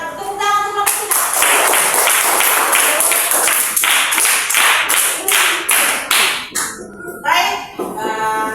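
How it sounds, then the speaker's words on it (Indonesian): A classroom of students claps for a presenting group in a loud, fast burst of applause that gradually thins into scattered, separate claps near the end. "Tepuk tangan untuk kelompok 3."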